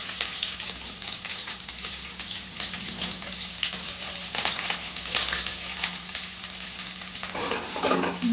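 Chopped garlic and onion sizzle steadily in hot oil in a pan, with scraping stir strokes breaking through a continuous crackling hiss at close range and no talk.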